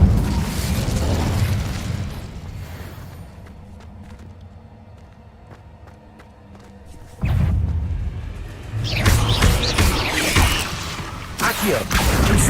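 Fire spells cast in the Hogwarts Legacy video game: bursts of booming, whooshing magic, dropping to a quieter stretch before loud, dense blasts return in the second half.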